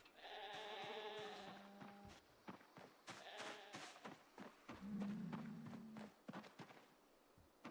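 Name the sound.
sheep bleating in a video game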